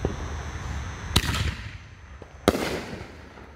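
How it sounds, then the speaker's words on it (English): Two Ultimate Force canister color shell fireworks from Miracle Fireworks burst outdoors, each a loud sharp boom with a crackling tail, about a second apart and alone without talk. "Ultimate Force Canister Shell by Miracle Fireworks. This is the color shell."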